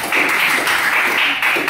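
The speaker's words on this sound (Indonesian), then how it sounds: "Berikan tepuk tangan dulu untuk Frederika." Brief, dense applause from a classroom of students, a steady patter of many hands clapping close by for under two seconds.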